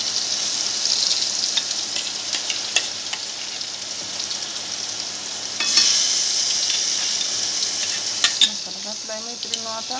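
Masala for chole roasts in a pan with a steady frying hiss, broken by occasional scraping stirs and a louder burst of sizzle midway. A faint voice briefly appears near the end.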